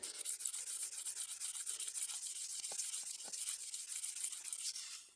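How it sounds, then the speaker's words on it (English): Cloth or hand rubbing oil finish into wooden trim on a boat, a steady rapid brushing scrape repeating in quick strokes throughout, close and soft with a few faint knocks. "Really give it a good rub down."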